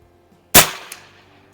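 A single sharp report from a Shin Sung Career Ultra 357 PCP air rifle firing Hatsan Vortex pellets at an outdoor range, loud and close, with a quick decay and a faint impact tick just after.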